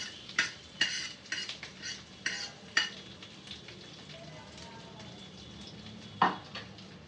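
Squash being stirred in a frying pan, a cluster of quick metal spoon scrapes and clinks over a gentle sizzle, then a quieter spell and one last sharp scrape, close by with no talking.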